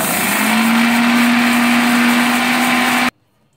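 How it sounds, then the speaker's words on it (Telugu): A mixer grinder whirs at full speed grinding roasted sesame seeds, a loud steady motor drone with a rising hum that runs for about three seconds before cutting off abruptly into near silence. "ఇప్పుడు ఇది మిక్సీ వేస్తాం"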